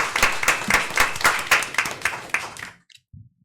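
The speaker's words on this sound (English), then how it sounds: "tonight, we want to applaud the kids and we want to applaud you" Applause breaks out at a city commission meeting in South Bay, Florida: a short burst of many hands clapping in a room, fairly close, fading out after about three seconds into near silence.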